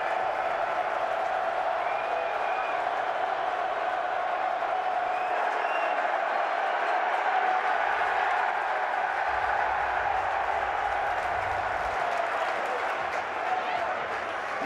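A football stadium crowd at an XFL game between the Seattle Sea Dragons and St. Louis BattleHawks roars continuously in a dense, sustained wash of cheering, with a commentator talking over it.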